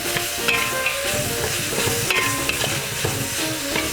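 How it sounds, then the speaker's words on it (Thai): Minced pork and onion stir-fried in a pan, loud continuous sizzling close up with repeated scraping and clanking of a spatula, no talking. "ใส่หมูสับลง แล้วก็ใส่อันหัวหอมลง หอมใหญ่ลง"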